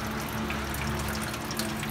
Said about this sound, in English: I'm gonna drain it down a little bit and clean out that filter